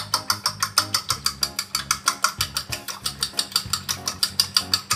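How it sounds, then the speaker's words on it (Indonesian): Eggs whisked briskly in a bowl, a fast, even rhythm of sharp metallic clicks and taps, about seven strokes per second, close and loud with no voices. "Pertama-tama kita akan kocok telurnya"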